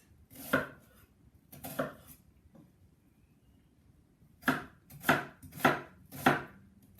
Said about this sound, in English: I'm just going to cut it into smaller bits.